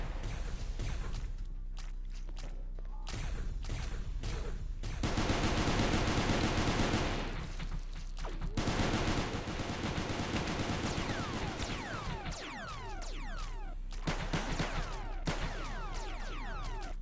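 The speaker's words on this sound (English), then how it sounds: "Constant crisscross path of dozens upon dozens of laser shots." Dense laser fire in the space station game Space Station 14, with dozens of shots crisscrossing in rapid, overlapping volleys that stay loud and nearly continuous, with no talking.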